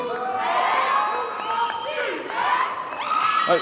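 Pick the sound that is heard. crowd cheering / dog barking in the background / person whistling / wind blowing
crowd cheering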